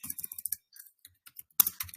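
Rapid typing on a computer keyboard, with quick irregular bursts of close, crisp key clicks and brief pauses between them.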